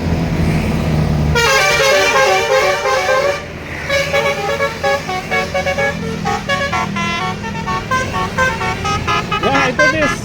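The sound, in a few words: bus horn honking on road to Pangalengan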